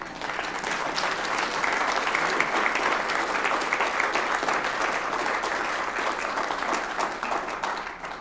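Sustained audience applause at an evening rededication ceremony at the NCAR Mesa Lab, a dense, steady clapping from a large crowd that holds at full level for about eight seconds before easing slightly at the end, with no talking.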